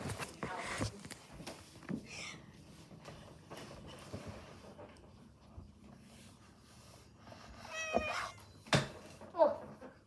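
A pet cat named Clementine meows a few times, soft at first and then sharper near the end, with light rustling and shuffling movement in a quiet indoor room.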